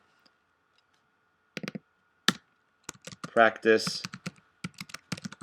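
Typing on a computer keyboard: a few short bursts of key clicks, close and fairly quiet, mixed in with brief speech.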